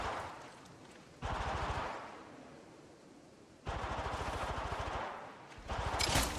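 Rapid automatic gunfire from a mobile shooter game played on a Poco X3 Pro phone, sounding in two long sustained bursts and a short third one, loud and close against softer game ambience.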